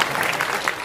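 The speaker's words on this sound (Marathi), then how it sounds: "टाळी नका वाजू आहे बाबा" Audience applause breaks out at a Marathi kirtan, a brief burst of dense, steady clapping from a crowd that fills the whole moment.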